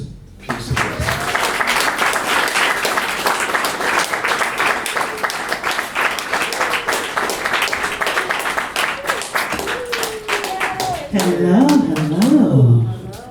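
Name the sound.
audience applause for Summer Soul with Tiffany Austin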